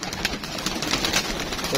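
Pigeons released from a rooftop, a flock of about 100 birds, give steady cooing and chirping calls with some wing flutter, moderately near, while someone talks over them.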